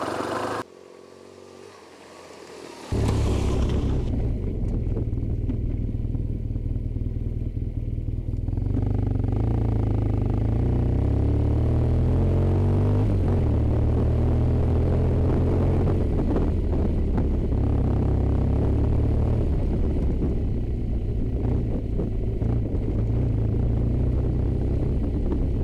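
A BMW R1200 GS motorcycle rides a rough track in a rally test, its engine starting loud and close after a short quiet opening, then holding a steady, throaty rumble with shifting revs and clatter from the rough surface.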